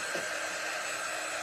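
A handheld craft heat dryer blows a steady, loud, broadband whoosh from start to finish, constant in pitch and level with no pauses, used while working on a pumpkin and button craft project.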